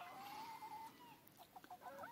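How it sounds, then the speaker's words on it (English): Chickens cluck softly in a backyard coop, a few close, quiet warbling clucks and murmurs over a faint outdoor background. "Happy chickens."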